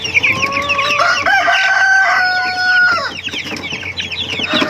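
Month-old chicks waiting to be moved into a grower house cheep and cluck loudly and close, a dense overlapping chorus of bird calls with a few sustained tonal notes, no talking.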